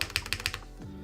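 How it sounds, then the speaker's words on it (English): A Cherry spacebar on a Lofree Hyzen keyboard is struck four times in a quick, even rhythm. The presses are crisp and close-miked, and a brief faint low thud follows once they stop. "This is a cherry spacebar."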